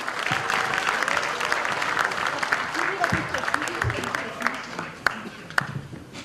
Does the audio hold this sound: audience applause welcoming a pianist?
yes